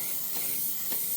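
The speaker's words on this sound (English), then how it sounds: "So when I'm spraying, I just like to put it on light," An aerosol spray can applies a light coat of paint to the headlight of a yellow Mustang, giving a steady, soft, breathy hiss with no talking.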